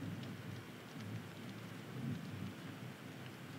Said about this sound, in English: It's thundering outside.